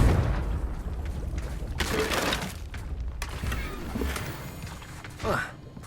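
Confringo fire spell in Hogwarts Legacy bursts in a few sharp, crackling blasts with debris-like shattering, loud and close over game noise, with a voice speaking amid the impacts.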